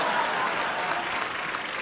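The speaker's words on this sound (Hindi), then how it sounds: "जोरदार तालियां।" Studio audience applause on a Hindi comedy talk show, a dense, loud, continuous burst of clapping with some crowd noise, steady from start to finish.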